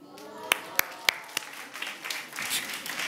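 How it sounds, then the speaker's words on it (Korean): At a church youth service, a few scattered claps ring out sharply and close, then soft murmuring and light clapping continue in the room. "왜 박수쳐?"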